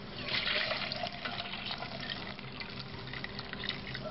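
Warm water is poured from a vessel onto sugar while starting homemade white wine, giving a steady, moderately loud splashing flow that runs without pause, close by and with no talk.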